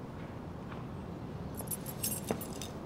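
Keys tossed onto a roof in the video game Life is Strange, a quiet background hum followed by a short flurry of bright metallic jingles and clinks near the end.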